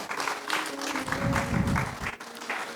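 A church congregation applauds steadily, with many hands clapping in a dense, sustained patter that swells slightly in the middle and holds at a moderate distance.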